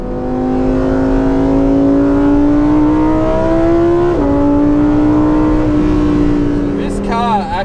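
A Lamborghini Huracan STO with all-wheel steering drives a wet race track, its engine note climbing steadily, briefly dipping at a shift, then rising again, loud and close from inside the car.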